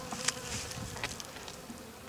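Honeybees buzz around a beehive box during spring cleaning, a continuous close drone with individual bees flitting past in brief louder passes.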